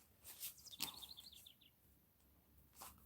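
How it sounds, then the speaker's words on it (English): Baby birds chirp in a nest, a faint, quick run of high, thin peeps lasting about a second, with a louder soft rustle around them. "I just heard the cutest little birdies chirp"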